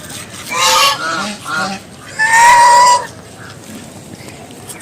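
Domestic geese honk loudly and close by in several harsh bursts, a pair of calls, a short gap, then a longer honking stretch, with quiet background between.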